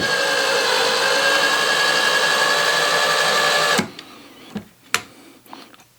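A power driver whirs steadily for nearly four seconds, sinking a screw into a WallClaw drywall anchor, then cuts off, leaving a few light clicks and taps up close.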